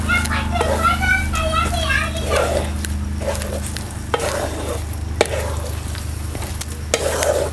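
Dabeli vegetable filling is stirred and mixed with lemon juice in a pan: a spoon scrapes and taps repeatedly against the metal over a soft sizzle, while voices murmur in the background.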